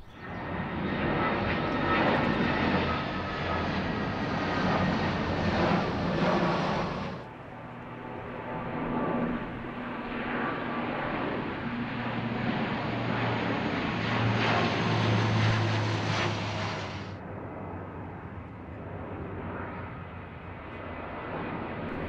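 A low-flying airplane passes over the homes of Berlin's Wedding district, its steady engine roar loud and close throughout. The roar drops slightly partway through, then carries on in a long continuous rumble with no speech.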